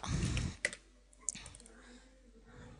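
A computer mouse clicks a few times, sharp isolated taps spaced about half a second apart, after a short breathy sound at the start, close and fairly quiet.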